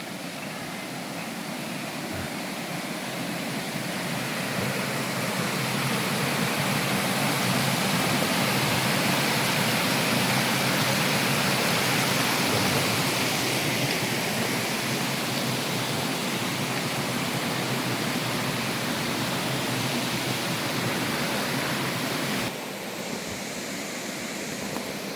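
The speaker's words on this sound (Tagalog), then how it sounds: "munting ilog. Lakas ng agos ng tubig." Strong current of a small river in a park, a loud, broad, continuous rush of flowing water that stays steady throughout and eases slightly near the end.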